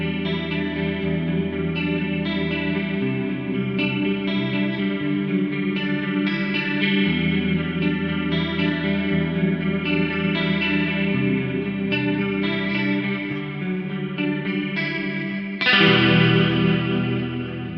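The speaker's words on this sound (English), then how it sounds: "And let's add a chorus. There is a tri-chorus model in here." An electric guitar plays a clean, shimmering chord progression through the tri-chorus effect of a Mooer GE300 Lite, the sustained chords swirling and wide, with a louder strum near the end and no talking.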